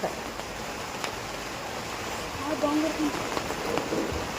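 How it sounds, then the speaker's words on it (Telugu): Steady soft rain hiss fills the background at a cattle milking session, with a few faint tonal sounds drifting through and no clear talk. "వర్షం వస్తుంది"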